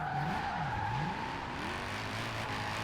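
A BMW built for drifting slides sideways in Forza Horizon 4, its tires squealing in a long wavering howl over a steady engine drone that stays loud and continuous throughout.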